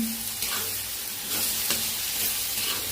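Beef curry in a Kottayam-style pan sizzles loudly and continuously while a utensil stirs it, with several distinct scraping strokes breaking through the hiss.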